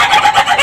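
An Ayam Cemani rooster, a bulu walik type with reversed feathers, gives a short, loud, close crow that breaks into several rasping pulses within under a second, with nothing else heard.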